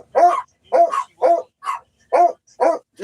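A dog gives about seven sharp, evenly spaced barks in steady rhythm, close and clear, with silence between each bark.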